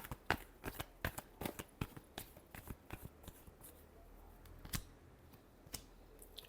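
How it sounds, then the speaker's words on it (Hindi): A deck of tarot cards is shuffled by hand in a close, quiet room, producing a rapid run of crisp riffling clicks and flutters in irregular bursts. "Last shuffle."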